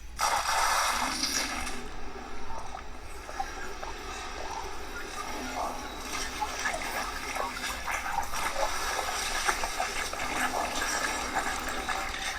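Syrinscape's 'Drone in My Head' soundscape from the tabletop RPG companion app: a steady, dense ambient wash of watery, mechanical textures with faint clicks and rattles, holding at an even level throughout with no talking.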